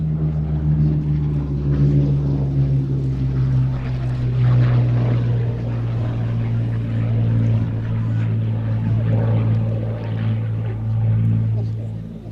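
A propeller fighter aircraft at an airshow drones steadily with a low, sustained engine hum throughout, loud and constant, while a voice talks over it.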